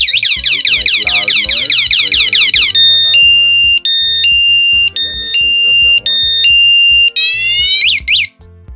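An electric bike anti-theft alarm goes off when the bike is moved, loud and close, with fast warbling sweeps shifting into repeated on-off electronic beeps and a final burst of rising chirps.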